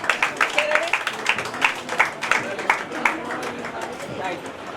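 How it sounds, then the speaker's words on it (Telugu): An audience at an International Women's Day award felicitation in a restaurant applauds in repeated bursts, the claps sharp and fairly near over a steady murmur of crowd chatter. "గట్టిగా చప్పట్లు ఒక్కసారి."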